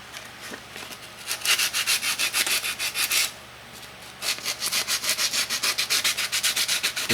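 Sandpaper rubbed by hand over a corroded starter terminal, scraping in two bursts of quick, steady back-and-forth strokes, close and fairly loud, with a short pause between.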